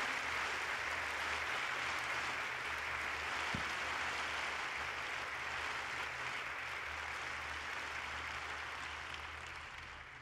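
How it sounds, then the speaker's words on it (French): An audience at a French political rally applauds, a fairly faint, steady wash of many hands clapping that continues unbroken for about ten seconds, easing off slightly toward the end, with a low hum beneath. "je pense qu'on peut les applaudir"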